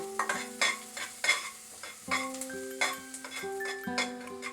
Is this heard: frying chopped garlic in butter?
yes